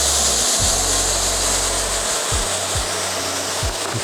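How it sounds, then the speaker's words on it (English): A rubber squeegee blade dragged under heavy pressure across a mesh screen-printing screen, a continuous loud rasping scrape over a low hum, with a few soft knocks partway through. "You want to get the blade of that squeegee and give it a lot of pressure."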